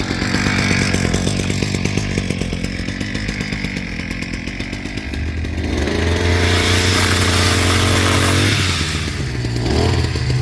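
Gas-powered PROYAMA adjustable pole chainsaw with a 42.7cc engine runs loud and close, buzzing steadily at high revs, then dropping to a lower idle before revving again near the end.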